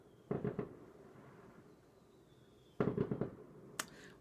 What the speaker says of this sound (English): you're getting some fireworks if you guys can hear that